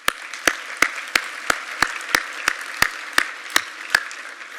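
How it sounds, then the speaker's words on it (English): An audience at a sports awards ceremony applauds, with loud sharp claps falling into a steady, even rhythm of about three per second over a dense wash of crowd clapping. "So y'all give them a round of applause."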